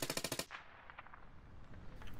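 A fast burst of automatic gunfire rattles in the video game Squad, sharp and rhythmic for about half a second, then gives way to quieter, distant battlefield ambience.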